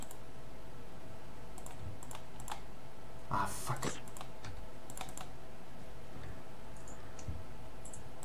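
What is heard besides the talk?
computer keyboard clicking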